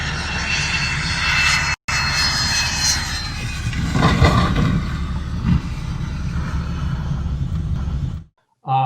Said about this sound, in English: the recent Citation 2 landing accident in Lufkin, Texas